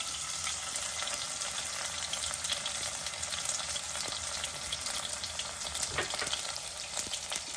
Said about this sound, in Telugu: ఇంకా జీలకర్ర వేసేసాను తర్వాత మన వెల్లుల్లి అనమాట